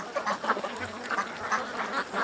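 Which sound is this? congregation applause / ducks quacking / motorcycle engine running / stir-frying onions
ducks quacking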